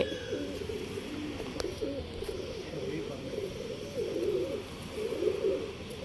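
Giribaz tournament pigeons kept in Bangalore coo softly and repeatedly, with low, throaty calls overlapping in a steady murmur at close range.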